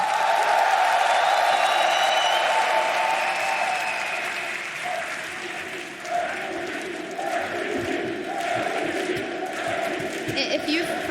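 A large arena crowd at the EU LCS summer grand final applauds steadily, with cheers and whoops mixed in, loud and continuous, while a voice speaks over a microphone.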